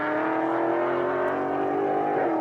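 Chris Becker's Mustang-platform race car throttles up out of a tight hairpin near the top of Pikes Peak, a loud, close, steady engine drone climbing in pitch with no voices over it.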